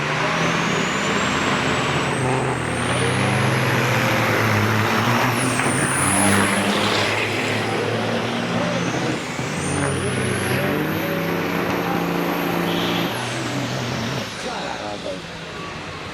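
Racing semi trucks at Onaway Speedway during a Great Lakes Big Rig Challenge race, heavy diesel engines roaring loudly as the rigs sweep past with rising whining tones and sustained rumble, with a voice talking over them.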